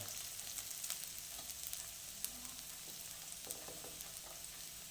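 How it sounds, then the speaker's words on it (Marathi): Chopped onion frying in a pan for Marathi-style Indo-Chinese Schezwan noodles, with a steady, fairly quiet sizzle running throughout and faint stirring clicks, no voices. "तो घालून घेऊ आणि कांदा व्यवस्थित परतून घेऊ"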